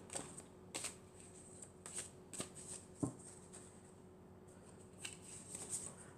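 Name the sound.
shuffling tarot cards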